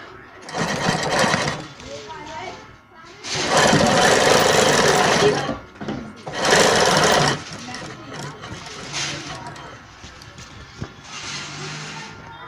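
A sewing machine stitches the end of a blouse's invisible zip in several loud, close bursts of rapid whirring, with short pauses between runs and a voice faintly present.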